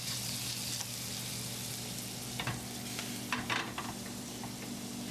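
Food cooking in a pan for a simple pasta dish gives a steady sizzle throughout, with a few brief louder crackles and stirring clinks toward the middle, close and moderately loud.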